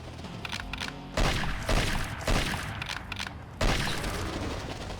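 Rapid-fire gunshots in the PSP hunting game Cabela's North American Adventures, a run of booming blasts in quick bursts with four heavier reports standing out over dense crackle, no talk.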